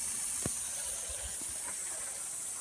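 Lawn sprinkler spray heads, including 4-inch Pro sprays, hiss water steadily across a yard in a continuous airy rush, with a few faint soft thumps beneath.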